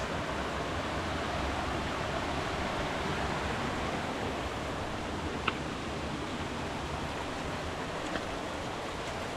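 A fast-running waterfall in the woods along a long-distance hiking trail, heard as a steady, dense broadband roar of rushing water that stays close and constant throughout, with no talk.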